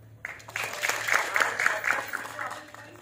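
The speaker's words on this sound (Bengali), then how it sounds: "একটা জোরে হাত তালি হোক" A theatre audience at a Kolkata stage festival claps for a few seconds, a moderate burst of applause that rises and fades, with a voice speaking over it.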